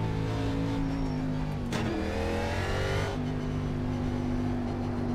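The engine of a NASCAR race car in the iRacing video game drones steadily, then revs through shifts in pitch. The sound is loud, continuous and close, with no talk.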